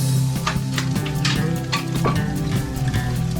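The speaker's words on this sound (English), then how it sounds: "All right, we hear that sizzling." Spicy Spam fries in a pan over medium heat, sizzling and crackling steadily throughout with scattered louder pops and spatters.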